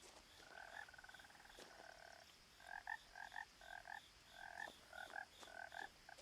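A frog croaks in What Remains of Edith Finch, with a series of short paired croaks in uneven bursts, faint and close over a quiet hissing background, no talking.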